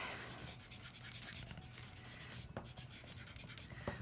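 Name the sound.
pencil lines being erased with an eraser on paper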